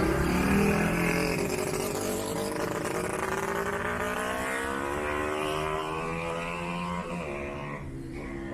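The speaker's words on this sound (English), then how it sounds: "this is Winston Churchill Road, and traffic here is always crazy" Busy traffic on Winston Churchill Road in the Dominican Republic, a car engine revving and climbing in pitch as it passes close by over a steady road hum.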